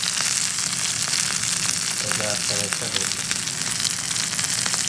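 Fish frying in hot oil in a pan, a loud dense crackling sizzle that runs steadily throughout, close up, with a few brief clinks partway through.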